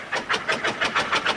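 A traction engine strains in a tug of war at a 1997 rally, its engine chuffing in a steady rhythmic pulse of about eight beats, medium-near and moderately loud, with no talk.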